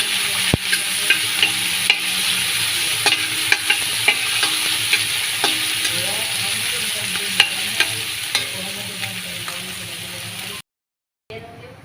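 Browned onions and ginger-garlic paste fry loudly in oil for prawn biryani, a constant close sizzle broken by repeated spoon scrapes and knocks against the pan, then a sudden brief cut to silence.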